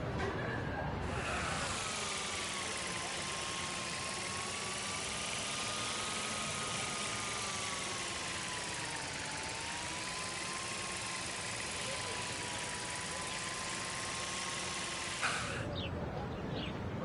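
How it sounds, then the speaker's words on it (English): A camera drone whirs steadily around a school campus in the game Life is Strange, a sustained buzzing hum with a slowly wavering pitch that holds for about fifteen seconds and then cuts off. "Here, give the drone a whirl around campus."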